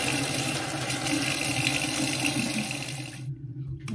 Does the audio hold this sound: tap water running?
yes